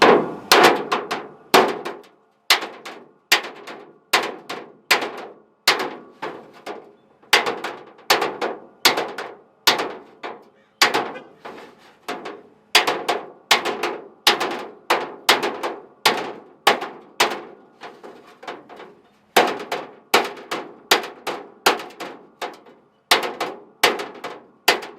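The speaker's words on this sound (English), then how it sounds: "knock these down with a hammer and dolly before I try to weld them" Sheet metal on a 1968 AMX hood is knocked down with a hammer against a dolly, giving sharp, ringing metallic blows in irregular bursts, some quick and clustered, others spaced by short pauses, close and with no talk.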